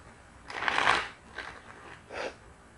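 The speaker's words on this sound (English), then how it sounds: "one more shuffle for magic and authenticity" Tarot cards are shuffled by hand in three quick riffling bursts, the first longest and loudest, with short pauses between, close up and without talk.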